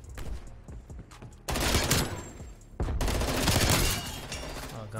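FFAR rifle in Call of Duty Black Ops Cold War fires in two sustained rapid bursts, loud and close, with quieter game sounds and brief pauses around them.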